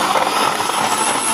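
Blender whirring through banana, dates and chilled milk for a shake, a loud, steady, close-up motor roar lasting the whole brief moment.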